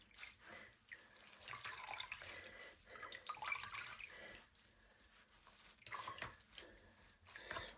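A soaked hand-knitted sweater is squeezed to wring out excess water, giving quiet, close bursts of trickling and dripping with soft splashes that come and go in irregular waves.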